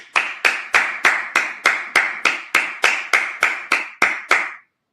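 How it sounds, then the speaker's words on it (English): A congregation at a Sabbath service claps together in a steady, even rhythm: about fourteen sharp, loud claps spaced roughly a third of a second apart, with no talk, then a sudden stop. "Clap it up."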